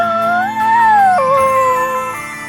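A pup howls in the video game Bravely Default II, one long wavering, rising then falling howl that trails into a lower whine, loud and clear with no talk.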